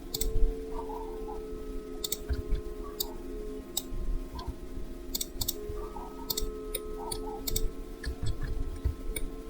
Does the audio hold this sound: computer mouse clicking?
yes